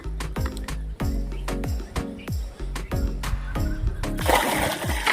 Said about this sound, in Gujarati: હવે બે ડોલું ટાંકી નાખી દઈએ